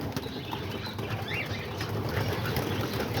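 Homing pigeons gathered outdoors around their feeding area, with wing flaps and soft bird sounds over a steady background hum, close and moderately loud.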